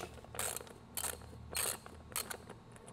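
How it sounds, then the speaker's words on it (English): Socket wrench ratcheting 20mm bolts tight while assembling a plate-loaded arm curl and triceps fitness machine; about five short bursts of quiet clicking, close by, with brief pauses between strokes. "and then get your socket wrench"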